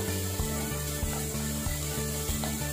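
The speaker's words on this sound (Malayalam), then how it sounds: "അപ്പോൾ ഇത് കൂടെ ഇതിനകത്ത് ചേർത്തിട്ട് നന്നായിട്ടൊന്ന് വഴറ്റിയെടുക്കണം." Chopped carrots and onions sauté in a pan for carrot rice, a steady sizzle broken by regular scraping strokes as the mix is stirred, close and continuous.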